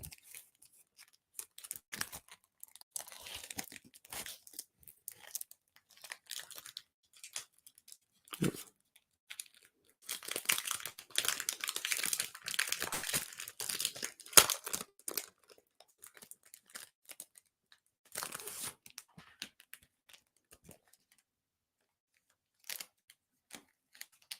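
A trading card pack wrapper is torn and crinkled open up close, with irregular crackling bursts, a denser stretch of tearing in the middle, and a few sharp rustles near the end.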